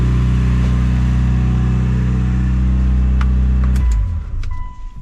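A freshly built Mitsubishi Evo 8 engine idling steadily on its first start, a loud, close, even drone that cuts out near the end, followed by a few light clicks and a fading hum.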